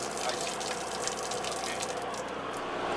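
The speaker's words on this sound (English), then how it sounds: "you got water just spilling" Water spills steadily from an opened low point drain valve beneath a Coachman Prism RV, a continuous splashing hiss with no pauses, fairly soft and heard alone.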